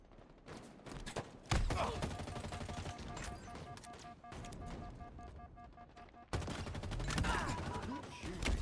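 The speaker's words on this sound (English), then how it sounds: "Good shooting, Bob." Video game gunfire rattles almost continuously in repeated loud bursts against a busy background of game sound effects, with a sharp explosive crack partway through and a brief drop before the firing resumes.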